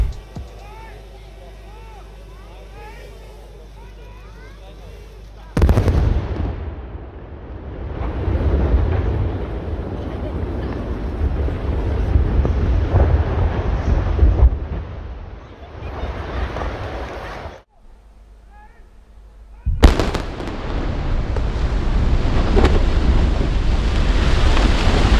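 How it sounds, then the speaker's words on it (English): The Eisern highway bridge, about 50 metres high, comes down after explosive demolition with 61 kilos of charges, a loud rumbling roar heard outdoors under heavy wind buffeting. The roar cuts out abruptly and then resumes. "After the columns were destroyed, it only took a few seconds for the bridge to entirely collapse."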